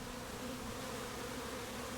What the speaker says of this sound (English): It is now possible to see that this hive is very full, has many bees,